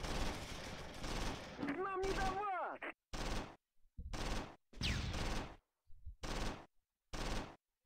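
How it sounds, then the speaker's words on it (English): Machine gun fire in Close Combat 3, a WWII Eastern Front war game: repeated bursts of rapid automatic shots separated by short silences, loud and close, with a brief voice and a whistling sound partway through. "The machine gun is shooting at my machine gun."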